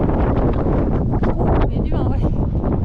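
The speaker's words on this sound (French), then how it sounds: "Il y a du vent" Wind gusting over a mountain trail at a high col, a steady broadband roar buffeting the microphone throughout, with people talking faintly underneath.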